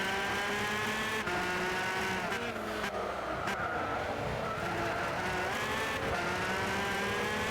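Car accelerating hard in Gran Turismo 6, a busy engine whine with rising and dipping tones over tire noise and brief scrubbing, steady and prominent with no talk.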